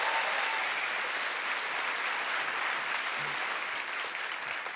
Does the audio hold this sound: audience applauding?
yes